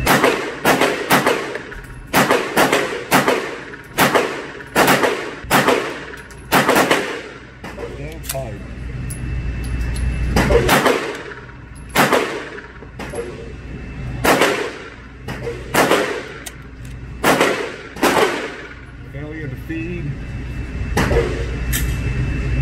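Pistol shots from a Bul Armory SAS II Viper ring out one at a time at an irregular pace over about twenty seconds, loud and close, with some talking between shots.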